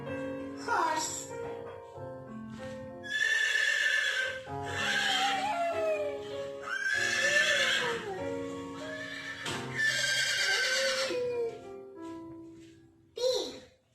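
A toddler imitates a horse with several high, wavering neighing whinnies, loud and close, in a run of child-voiced animal impressions.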